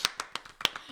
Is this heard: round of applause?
yes